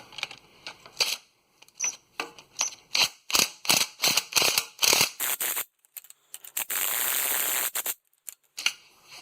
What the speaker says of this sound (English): I think I'm just gonna snug all the bolts and then we'll do a final torque.